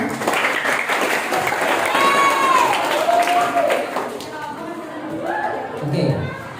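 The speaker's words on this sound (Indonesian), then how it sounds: "Tepuk tangan buat kita semuanya." Group applause in a character-building class for sixth graders, clapping mixed under a talking voice and crowd chatter throughout.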